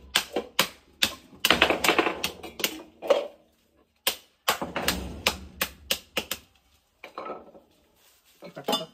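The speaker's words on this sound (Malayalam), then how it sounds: "കട്ടപ്പാൽ ഉടക്കുന്ന പരിപാടി കേട്ടോ." Solid frozen condensed milk being broken up for a tender coconut shake at a street food stall, a series of sharp, hard knocks and taps in irregular bursts with short pauses, close by.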